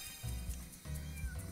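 A cartoon cat in the video game Doggie Dash gives two short meows at close range, with soft game background sound between them.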